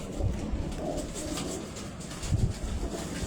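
Racing pigeons cooing outdoors, soft low throaty coos repeating at intervals over a steady background hiss of wind and ambient noise.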